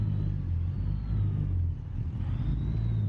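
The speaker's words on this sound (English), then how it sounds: "And the turbo sounds really good too." A heavy truck engine with turbo in American Truck Simulator drones steadily with a deep rumble and a faint rising and falling turbo whine above it, continuous and close.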